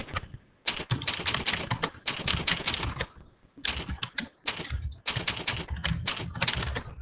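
Close, loud typing on a computer keyboard, running in rapid bursts of clattering keystrokes separated by brief pauses, with no voices.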